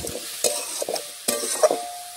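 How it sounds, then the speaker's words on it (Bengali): Vegetables fry in a pan with ginger, cumin and green chilli paste, giving a soft sizzle broken by several scraping stirs of a spatula, close up and with no voices. "এখন ভালোভাবে একটু সবজির সাথে মিশিয়ে সবজি একটু আমি দেখুন ভেজে নিচ্ছি এইভাবে।"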